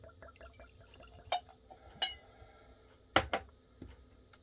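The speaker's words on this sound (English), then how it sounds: "we're gonna give us a little pour." Jack Daniel's Single Barrel whiskey is poured into a glass in a quiet room, with soft liquid trickles, a few drips and several faint glass clinks.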